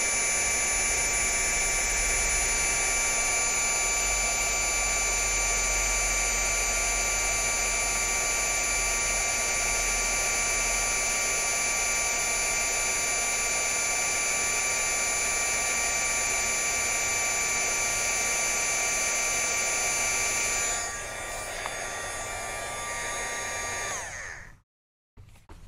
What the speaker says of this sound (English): Apparently my heat gun was deciding it needed to warm up.